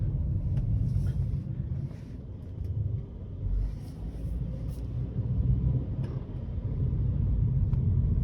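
Low, steady engine rumble from a 2012 BMW 1 Series 118i M Sport Steptronic, a 2.0-litre petrol car, pulling away slowly from around 10 mph, heard from inside the car with road and wind noise and no talk.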